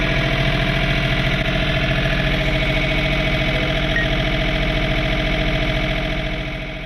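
A John Deere 3 Series compact tractor engine runs at a steady, loud drone close by in winter snow-blowing conditions, with no voices; the sound eases off slightly at the very end.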